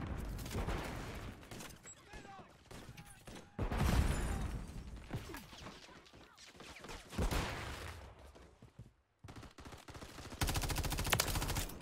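Bursts of gunfire from a one-shot rifle in Call of Duty MW3, sharp loud reports scattered among mechanical clicks and game noise, with brief pauses and a player's voice faintly under the action.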